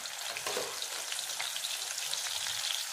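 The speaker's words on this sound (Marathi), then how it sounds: "इथे तेलामध्ये छानपैकी आपल्याला फ्राय करून घ्यायचं आहे." Mixed vegetables fry in hot oil for a veg biryani, giving a dense, steady sizzle with occasional light stirring, close and continuous.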